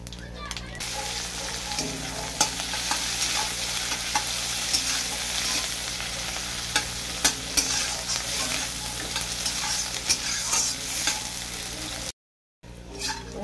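Five-spice seeds crackle and sizzle loudly in hot oil in a pan where potatoes were just fried, with scattered pops and stirring scrapes, then a brief break near the end.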